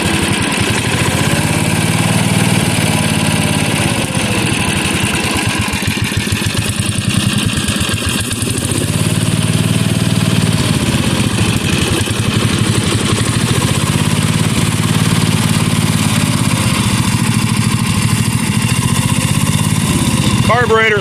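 A 1977 Bolens G10 garden tractor engine with a new spark plug and air filter runs loud and close, a steady throbbing drone that surges and dips slightly from an untuned carburetor throughout.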